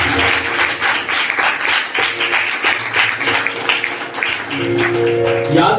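Loud, sustained applause and clapping from a church congregation fills the hall, with voices and music-like tones rising under the crowd toward the end.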